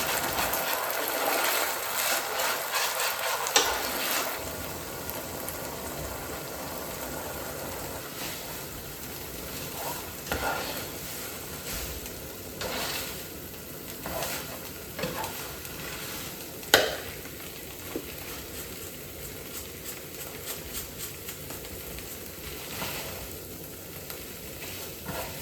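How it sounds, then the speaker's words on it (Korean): Dried shredded squid stir-fries in a pan with a constant soft sizzle, punctuated by repeated spatula scrapes and taps and one sharp clank, near and unaccompanied by speech. "김치전 만들었던 팬 닦아내고 오징어채 볶음을 만든다"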